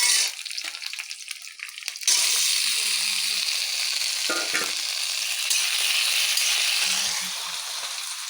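Kesari lentil fritters (bora) frying in hot oil, a steady loud sizzle throughout with a brief stir or scrape near the start, no voices.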